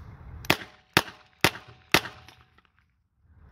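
A .38 Special revolver fires hollow-point rounds as four sharp, loud shots about half a second apart, each followed by a short decaying echo, then quiet.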